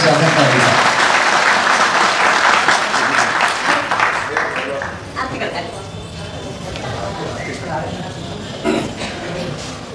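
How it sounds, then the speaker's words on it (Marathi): Loud audience applause greeting a revered guru at a religious gathering, dense and close at first, then thinning and fading into scattered claps with voices over the last seconds. "जोरात एकदा टाळी वाजून आपण त्यांचं स्वागत करायचं"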